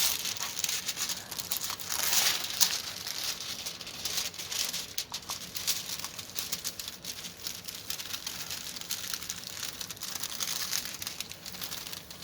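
Cellophane from a pre-stamped cross stitch kit is twisted and flattened by hand, producing continuous close crinkling and crackling that rises and falls for several seconds, with no voices.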